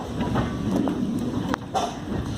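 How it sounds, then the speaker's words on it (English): A heritage tram runs along the line at Crich Tramway Village, heard from on board as a continuous low rumble with occasional clicks and clacks over the rails, moderately loud and close. "So you can just hear the tram sound."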